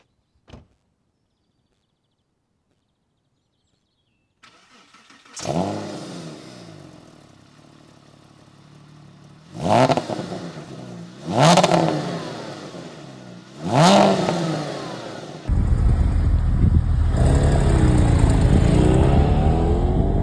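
Porsche Boxster 987 engine cranking to life with a sharp flare, then three separate revs rising and falling, followed by a loud steady roar, close and clear with no talking.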